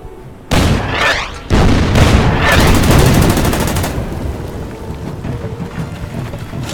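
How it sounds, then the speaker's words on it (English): Artillery gunfire in the war strategy game Order of Battle: Panzerkrieg: two loud booming blasts about a second apart, each followed by rumbling that slowly fades. "Okay, opening fire here on the artillery piece,"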